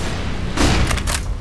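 A flashbang grenade goes off in CS:GO, a loud broadband burst with a boomy low thud, followed by a couple of quick bright crackling bursts during competitive gameplay.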